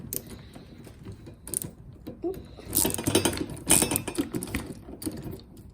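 A socket wrench turns a trailer jack, giving quiet, irregular mechanical clicking and ratcheting with louder clattering bursts in the middle, close by and without talk.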